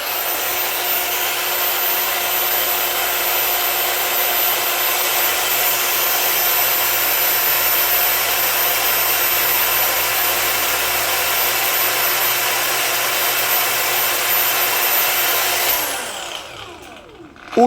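A DCK KDSM03-100 cordless brushless angle grinder runs at a steady, loud, high whir for a long stretch, then spins down and winds off near the end.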